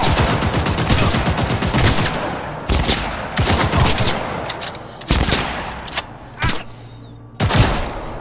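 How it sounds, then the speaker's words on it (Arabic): Rapid bursts of machine pistol fire in Cyberpunk 2077, loud and close, several long volleys separated by short pauses. "ده مسدس رشاش جميل"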